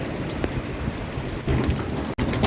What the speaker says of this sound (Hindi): सुने कैसी ओले आ रहे हैं ज़बरदस्त